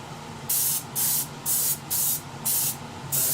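A spray can hisses in six short, evenly spaced bursts, each about a third of a second, close and fairly loud, spraying parts of a 1/48 Italeri Seahawk plastic model kit.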